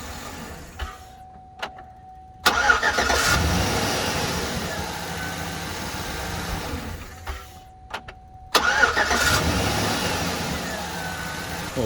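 A 2009 Chevy Silverado being started twice: each time a sharp click and brief whirring crank from the starter, then the engine catches and settles into a steady idle, heard up close.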